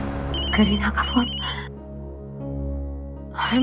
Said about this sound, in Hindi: करीना का फोन